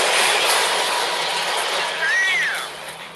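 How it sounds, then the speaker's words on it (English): A 6,000-ton freight train rolls through a railroad crossing, a loud steady rumble of cars and wheels with a brief metallic squeal of wheels before it fades slightly at the end. "A train and a truck collide at a railroad crossing."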